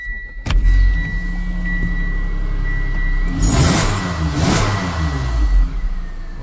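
A car's V6 engine cranks and catches with a sharp start, settles into a steady rumbling idle, then is revved twice, each rev swelling and falling back, close and loud with no talk.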